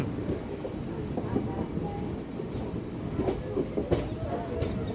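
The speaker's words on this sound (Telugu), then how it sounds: "ట్రైన్ మొత్తం టర్న్ అవుతుంది." A passenger train curving through hilly country gives a steady, loud rumble with rhythmic clickety-clack from the wheels and a few brief sharper clanks near the end.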